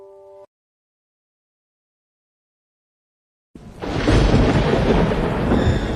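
A lightning strike hits a building's roof circuit, and after a short tone and three seconds of silence a loud thunder crash breaks in and rolls on as a heavy, sustained rumble.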